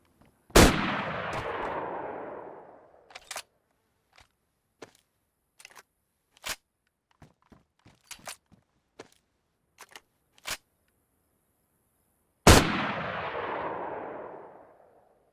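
Double-barrel shotgun in the video game DayZ, two loud booming blasts about twelve seconds apart with long decaying tails, separated by a series of sharp mechanical clicks and clacks from reloading.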